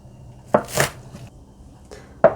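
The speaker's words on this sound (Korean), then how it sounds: "파 썰어 볼게요" A knife chops green onions on a cutting board while kimchi is being prepared, with a few distinct, sharp chops spaced irregularly, close and alone.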